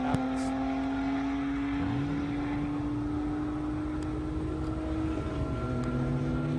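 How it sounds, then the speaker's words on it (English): Lotus Evora sports car with 300 horsepower driving on a racetrack during an airstrip racing event, a steady continuous engine drone with shifting tones throughout, held at a constant level without breaks. "That is the Lotus Evora"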